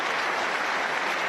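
A snooker crowd claps in a steady, dense wash of applause at a Ronnie O'Sullivan versus Ali Carter match, even and full throughout the short burst.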